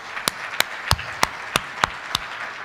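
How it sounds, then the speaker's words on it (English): Brief applause at a business school luncheon for the faculty, heard as a handful of distinct, evenly spaced claps rather than a full crowd, fairly close and clear. "a round of applause for the faculty"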